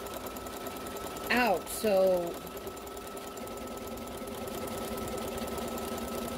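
A sewing machine stitches fabric for a quilt block, giving a steady, even mechanical whir that runs throughout, with a brief spoken remark partway through.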